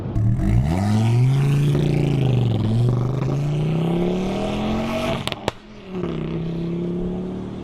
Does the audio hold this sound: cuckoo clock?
no